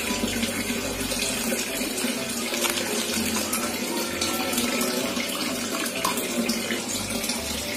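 Ordinary tap water runs steadily from a faucet while mixing slime, a loud continuous gushing splash that lasts throughout with no talking.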